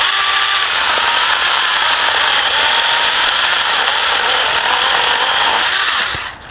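Saker mini cordless chainsaw cutting through a tree branch, a loud steady high-pitched motor whine with chain rasp throughout, cutting off abruptly at the end, no talking.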